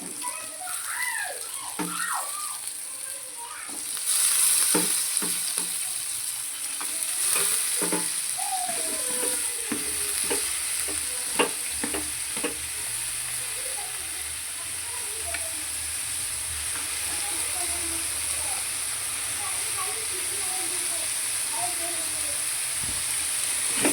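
Onions and spices fry in hot oil in a pan, giving a soft continuous sizzle with occasional stirring scrapes, while a person talks over it at moderate volume.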